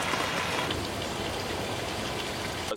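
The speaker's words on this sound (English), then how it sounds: "crayfish legs and tail, and bacon frying up here." Crayfish legs and tail frying alongside bacon, likely over an outdoor cooking setup on a damp day, give a steady, dense sizzle and crackle that carries evenly throughout, close and moderately loud, with no talking.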